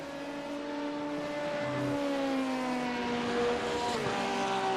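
Porsche GT race car at Le Mans, its engine note rising and falling in a sustained drone as it passes, with other engines layered behind; no talk.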